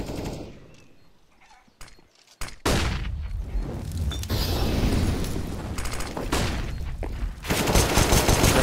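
An M249 machine gun fires in Counter-Strike on the Inferno map, starting with a few scattered sharp shots, then a loud, dense sustained burst rattling on for several seconds, close and dominant, with a brief dip before a final surge.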